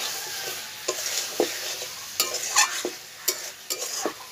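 Crab sautéing in a pan with a soft continuous sizzle, punctuated by sharp spatula scrapes and clinks at uneven intervals as the pieces are stirred. No speech.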